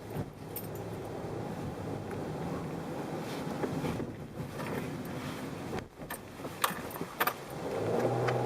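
A 2014 Jeep Cherokee stuck in the wrong gear accelerates under heavy throttle with a steady low engine drone and road noise, then lurches forward near the end with a brief dip and a rising surge.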